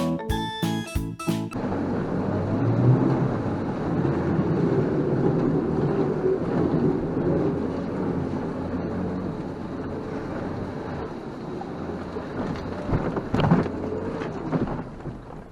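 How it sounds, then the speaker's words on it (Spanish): A 2021 Suzuki Jimny sits in water with its exhaust pipe submerged, producing a low continuous rumbling and gurgling churn that stays steady for most of the clip, with a few sharper knocks at the start. "el vehículo dentro del agua con el tubo de escape sumergido y soltamos el acelerador"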